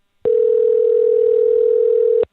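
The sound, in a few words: telephone dial tone while placing a call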